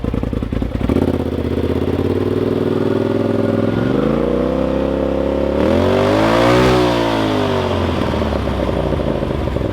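A Polaris RZR Turbo S side-by-side with a loud new exhaust rumbles close by at idle, its deep engine note swelling and dipping as the throttle is blipped.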